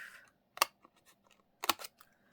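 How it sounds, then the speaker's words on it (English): Scissors snipping paper for a junk journal: two sharp, close cuts about a second apart with soft paper rustles between, in an otherwise quiet room. "Try and hold them a little bit and then cut underneath."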